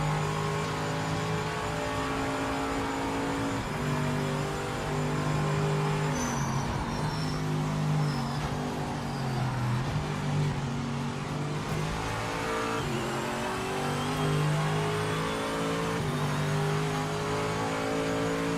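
GT race cars in Project Motor Racing 2.0 roar continuously at high revs, a dense layered engine drone that rises and falls through gear changes with occasional tire squeal, steady and loud throughout.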